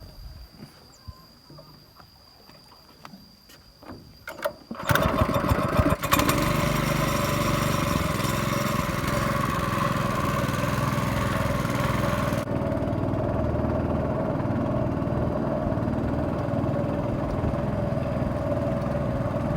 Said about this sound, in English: Going to the waterfall, you get this really cool boat ride.